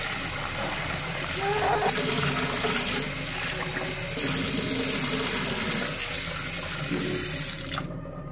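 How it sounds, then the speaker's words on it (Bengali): Water pours and drains steadily from washed chicken, a continuous close rushing splash that shifts slightly in strength before it tapers off at the end. "এখন আমি পানিটা ঝরিয়ে নিব।"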